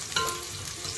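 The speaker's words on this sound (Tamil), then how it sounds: "வெங்காயமும் பூண்டும் நல்லா வதங்கட்டுங்க" Chopped onions and garlic sautéing in a pan for an Arabian-style chicken mandhi, giving a continuous close hiss and crackle of frying with faint stirring, no voices.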